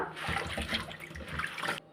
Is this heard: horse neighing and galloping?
no